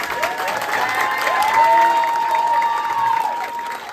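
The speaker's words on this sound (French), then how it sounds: "je pense qu'on peut commencer par les applaudir tous" Audience applause and cheering fill a room, steady and fairly loud for a few seconds, with a sustained tonal whistle or squeal rising over the crowd noise partway through.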